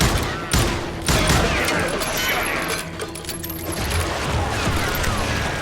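Gunfire in the Western shooter game Call of Juarez: Gunslinger, with sharp close shots and a scattered exchange of fire, with mechanical clicks and a faint voice in the mix.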